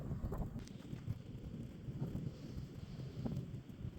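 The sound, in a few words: wind blowing during snowfall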